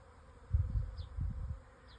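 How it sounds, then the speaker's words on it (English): A swarm of honeybees arriving after rain, heard as a low, fluctuating hum that swells in two bursts over steady faint background noise, with a couple of brief high chirps. "You see the swarm of bees coming?"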